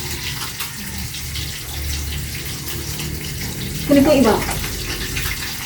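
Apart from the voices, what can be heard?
water running from a tap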